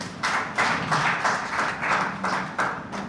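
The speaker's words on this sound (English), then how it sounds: "Let's give them a round of applause." A round of applause comes from an audience at a livestreamed event for a Quebec food processing industrial parks company, a brief rhythmic patter of claps heard at moderate distance.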